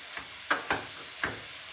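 Peppers and onions browning in a pan give off a soft, steady sizzle punctuated by a few brief crackles and spatters, fairly faint and heard alone without talk.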